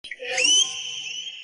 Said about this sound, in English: it's not a flate, it's a whistle